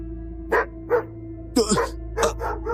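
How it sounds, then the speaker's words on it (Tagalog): Several sharp dog barks in an uneven sequence, fairly close, over a steady low electrical hum. "bigla akong napabalik sa ulirat dahil sa malakas sa tahol ng aso"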